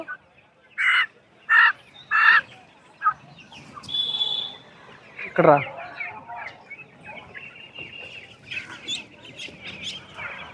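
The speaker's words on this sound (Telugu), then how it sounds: "ఇవి గిరిజా కోళ్ళు" Giriraja chickens at a busy livestock market give several loud, close squawking calls in quick succession, followed by fainter crowd noise and a person speaking.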